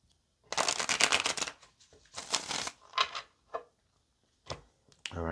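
Playing cards are riffled and shuffled in several quick bursts, close and crisp, with short pauses between each shuffle.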